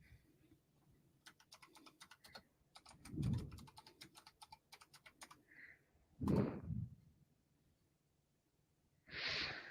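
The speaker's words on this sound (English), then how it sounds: "Typing. I am." Fingers tap on a computer keyboard in bursts of rapid, quiet clicks, with pauses and a few louder breaths or thumps between them and no speech.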